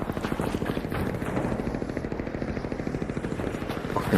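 A Bastion robot enemy in Arc Raiders firing a sustained, rapid mechanical burst of evenly spaced heavy shots, loud and continuous throughout with a deep rumbling body.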